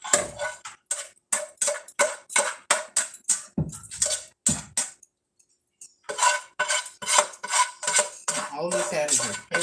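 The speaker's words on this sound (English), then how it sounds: "I'm just kind of chopping it up a little more." Rapid, sharp knocks of a utensil chopping food in a pan, loud and close in quick bursts with a short pause midway before the tapping resumes.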